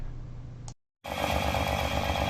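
An engine runs with its exhaust escaping through a cracked muffler, a loud, rough, steady drone with a low, pulsing throb that cuts out briefly and then returns.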